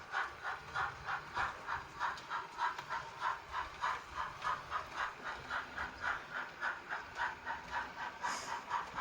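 Rapido Stirling Single model steam locomotive chuffing steadily in a quick, even rhythm of regular puffs, close and clear with a faint hiss beneath, no voices.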